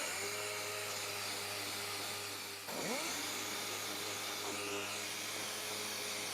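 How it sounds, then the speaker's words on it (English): Power sander smoothing a plexiglas panel with 220-grit paper. A constant loud whine holds throughout, dipping and surging briefly midway as the sander shifts against the surface. "Man, I love that sander."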